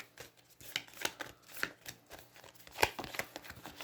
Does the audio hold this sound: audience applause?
no